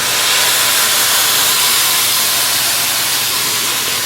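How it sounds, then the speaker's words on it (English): Brandy hitting a hot pan of cooked mushrooms, a loud continuous steamy hiss that stays strong and even from start to finish. "I'm turning off the heat to the burner, adding about a half a cup of brandy"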